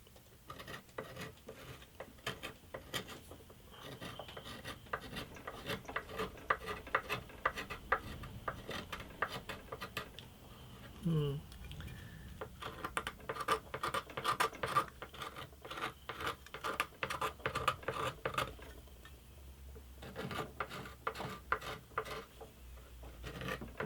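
Hand scraper carving the wooden bridge of an antique parlour guitar, a quiet, close series of short dry scratching strokes in an uneven rhythm, pausing briefly now and then, with no talk.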